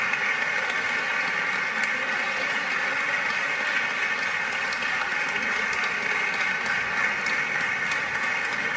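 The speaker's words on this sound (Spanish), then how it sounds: "Un aplauso para ellos, por favor." Steady applause from a sizable concert crowd, a dense even clatter of clapping that holds at the same level throughout.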